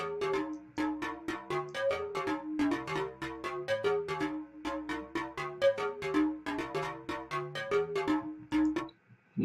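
A synth bass patch, with chorus applied, plays a bouncy run of short, punchy plucked notes in a steady rhythm, loud and alone with no voices.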